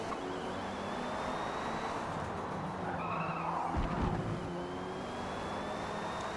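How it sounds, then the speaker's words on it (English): A Porsche race car skids off the track during a sim-racing endurance event at Mid-Ohio, with a sustained engine roar and a loud tire scrub and rumble building mid-way before easing back to steady engine noise. "And Calco gets too ambitious and goes off all by himself."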